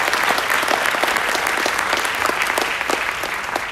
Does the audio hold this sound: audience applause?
yes